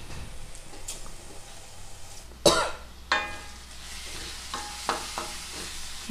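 Onions frying in a pan for a Telugu leaf curry, with soft background sizzle and a few sharp scraping clatters as they are stirred, the loudest around the middle, then quieter sizzling.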